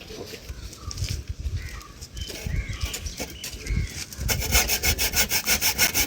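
A hand saw rasps through an AAC block, first in uneven scraping strokes, then in a fast, regular back-and-forth rhythm that grows louder toward the end, close up.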